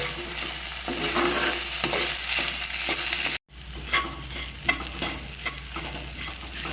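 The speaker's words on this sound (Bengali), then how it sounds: "চালটাকে ভালো করে ভেজে নেব।" Soaked Gobindobhog rice fried and stirred in a pan for muri ghonto, a Bengali fish-head dish: steady close sizzling with repeated scraping stirs, a brief cut midway, then more frying and stirring, no voices.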